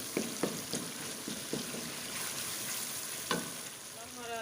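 Ground spices and black pepper fry steadily in ghee in a pan for a dal chana fry, a continuous close sizzle broken by several sharp clinks of a spoon stirring and scraping.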